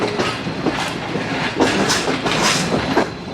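Shalimar Express train rolling into platform 2 at a station, a continuous close rumble of wheels with rhythmic clattering over rail joints.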